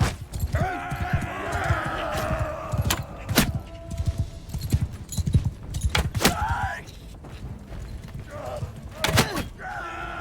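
Hoof clops from horses in Mount and Blade II: Bannerlord, mixed with busy ambient noise, crashing impacts and a speaking voice throughout.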